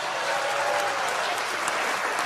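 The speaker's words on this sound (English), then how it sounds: "Can we give her a big round of applause?" Studio audience applauding a country music legend on a TV variety show, steady dense clapping held at even loudness throughout, with no talk over it.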